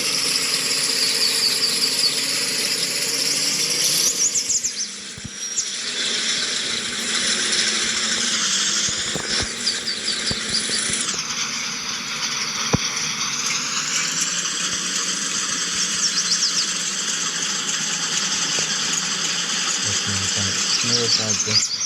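A truck engine at light throttle in second gear in the driving game RTHD drones steadily and loudly for the whole stretch, with a whining tone that shifts pitch a few times and faint rattles.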